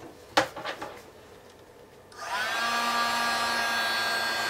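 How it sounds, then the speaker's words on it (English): A handheld heat tool switches on after a few knocks and then blows a steady, loud whirring hum while embossing cardstock, running alone without speech. "I'm just going to use my heat tool."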